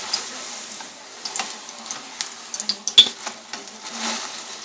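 Corn tortilla frying in preheated oil in a pan, a soft crackling sizzle with scattered pops and bubbling bursts, fairly quiet and close, with a sharper clink near the middle.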